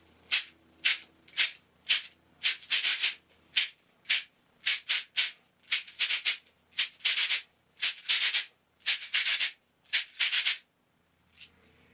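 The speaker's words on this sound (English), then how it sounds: "grab the handle, and you're just going to twist it like a doorknob, and you can turn it one way only or both ways" Cabasa twisted back and forth by its handle, its bead chains scraping the metal cylinder in crisp, regular rasping strokes, close and loud, with brief gaps between pairs of strokes.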